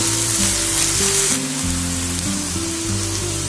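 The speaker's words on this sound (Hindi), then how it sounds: "इसे हमें ज्यादा तेज आंच में फ्राई नहीं करना है, हल्का हल्का करना है कि हल्की गुलाबी प्याज हो जाए" Onions fry gently over low heat in a pan for a snack gravy, giving a steady, soft sizzle throughout with a tonal musical background running underneath.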